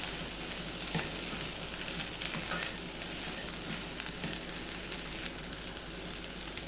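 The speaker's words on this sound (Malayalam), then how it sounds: "ഇനി നമുക്കിത് മിക്സ് ചെയ്യാം. ഇളക്കി മിക്സ് ചെയ്ത് കൊടുക്കാം." Egg curry with drumstick leaves sizzles in a pan while being stirred, a steady hissing fry with occasional light scrapes and taps, close and continuous with no voices.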